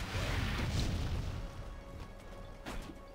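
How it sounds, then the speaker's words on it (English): A rocket launcher explosion in Red Faction: Guerrilla multiplayer, a loud, heavy boom up front that rumbles and decays over a few seconds with a smaller crack near the end. "Oh, it's the rocket launcher."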